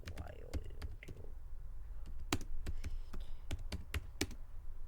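Typing on a computer keyboard: steady, irregular clicks of individual keystrokes, close and moderately loud over a low background hum.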